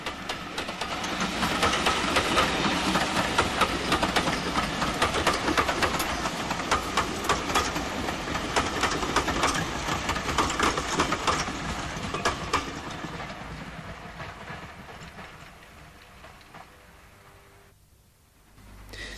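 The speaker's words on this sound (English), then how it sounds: "In somewhat duller weather, the train on its return journey." A Mickey Mouse class mixed traffic steam locomotive hauls its train on the return journey, a steady rumbling clatter of wheels and engine that holds loud for most of the pass, then fades into the distance with a brief lull near the end.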